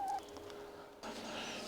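Backyard chickens clucking in a garden as laying resumes after a cold winter, a short high call at the start, then a soft, busy outdoor bed of low clucks and rustling, with a brighter burst about halfway through.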